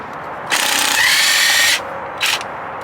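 An impact wrench zaps the 24 mm flywheel bolt off a Bass Tracker outboard motor, one loud buzzing burst of about a second followed by a short second rattle, close up with no talk.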